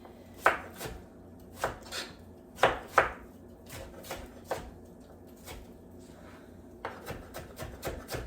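A knife chops on a board in uneven strokes, some loud sharp cuts and some lighter taps, with quiet room noise between.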